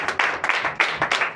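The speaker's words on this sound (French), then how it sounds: "Donnez l'acclamation à notre Seigneur." A church congregation at a Sunday worship service in Comè, Benin bursts into applause, several loud swelling waves of clapping following one another in quick succession with no talk over them.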